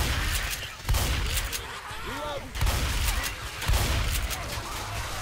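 Shotgun blasts in Left 4 Dead 2 on The Passing's Riverbank level boom out in several separate loud bursts, with game noise rumbling between the shots.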